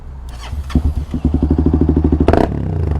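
Honda Twister motorcycle fitted with a sport exhaust starts and settles into a loud, close, rapidly pulsing idle, with a brief rasping rev partway through.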